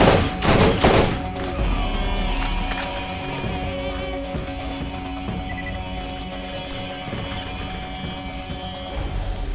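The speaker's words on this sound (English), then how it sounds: "Fired one more burst than I should have because of slowness." Burst-fire rifle shooting in Borderlands: sharp clustered bursts of gunfire crack loudly at the start, then sparse shots and clatter ring out over a droning game backdrop.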